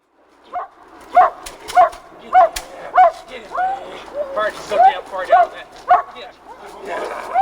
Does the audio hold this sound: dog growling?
yes